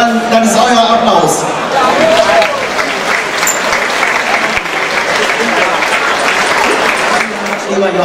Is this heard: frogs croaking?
no